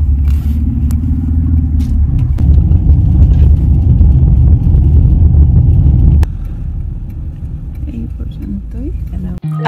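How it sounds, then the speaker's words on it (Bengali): A taxi drives the road to Oia, Santorini, in winter, a loud steady low engine and road rumble heard from inside the car, which eases to a quieter drone partway through. "আর এখন ট্যাক্সি করে যাচ্ছি ওইয়া, OIA ওইয়া, 25 মিনিট ড্রাইভ।"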